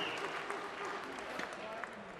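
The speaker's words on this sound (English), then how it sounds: "bout requires one more round of applause, please, for both of these boxers" Arena crowd applauding two super welterweight boxers after a six-round bout at the Nissan Arena, a steady wash of distant clapping that fills the hall for a couple of seconds, with a few louder claps standing out near the end.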